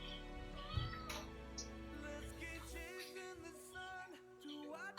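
A cat meows several times during a mountain outing, rising and falling cries heard over a low continuous background rumble.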